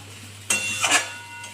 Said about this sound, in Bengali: হালকা হাতে একটু নেড়ে নিলাম